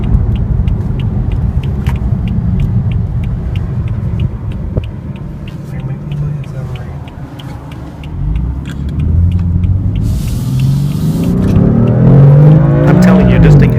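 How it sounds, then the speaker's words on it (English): A 2015/2016 BMW M4 Coupe pulls away under strong acceleration from inside the cabin, its engine rumble building steadily and climbing in pitch toward the end, loud and close throughout. "let's make a turn here and we'll see how it will accelerate one more time"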